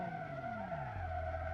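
Tires skid loudly on a silver ETK W Series luxury car as it brakes hard in BeamNG.drive, a steady high screech over a falling engine note that drops and settles low.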